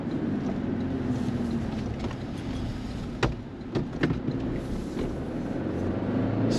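A 2024 Toyota Tacoma TRD Sport with a six-speed manual accelerates on throttle, its engine a steady low rumble under heavy wind and road noise, with a few sharp clicks and knocks along the way.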